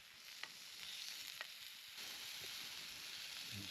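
Steak sizzles and fries in its own rendered fat on a camping stove during a winter wild camp, a steady close hiss with a few faint pops and no talk.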